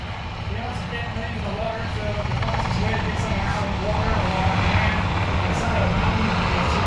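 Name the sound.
HH-60 rescue helicopter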